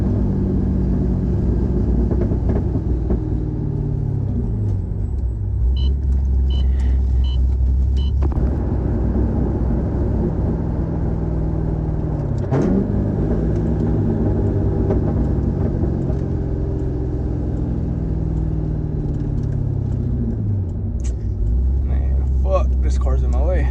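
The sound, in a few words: Corvette C6 engine while driving and downshifting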